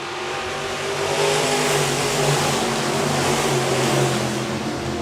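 Iron Man B-Modified race cars accelerate together on a dirt oval restart at Park Jefferson Speedway, producing a loud, continuous roar of several engines that rises and holds.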